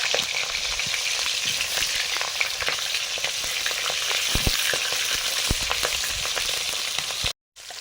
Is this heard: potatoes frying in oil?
yes